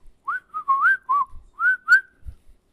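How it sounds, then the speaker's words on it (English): A whistled tune, several short rising and sliding notes in a bright melodic run, close and clear, with a couple of soft low thumps near the end. "They are whistling a tune"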